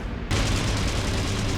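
A sudden loud burst of machine-gun fire from a fighter plane in a World War II dogfight, breaking in sharply and holding as a dense, harsh roar for over a second.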